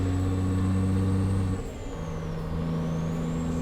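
A truck engine from an American Truck Simulator sound mod drones steadily and loudly at low pitch, dips briefly mid-clip as if shifting, then settles back into a steady hum alongside a faint high whine.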